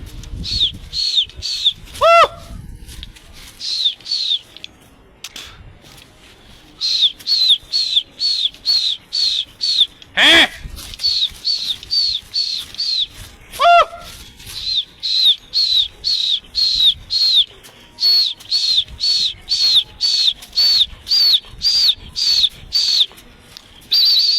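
Pigeons flap their wings in repeated bursts of rapid fluttering, with a few sharp bird chirps between bursts, outdoors on a rooftop during a kite-flying pigeon hunt.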